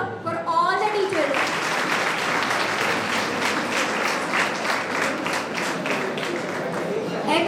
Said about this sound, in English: huge round of applause for all the teachers